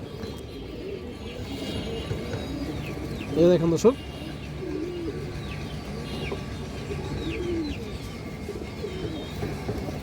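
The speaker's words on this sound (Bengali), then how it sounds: "ক্রিম চোখের কবুতর, হাই ফ্লায়ার কবুতর।" High flyer pigeons with cream eyes coo softly in a pigeon farm loft, a steady low murmur of several birds under someone talking throughout, with a brief louder burst of voice partway.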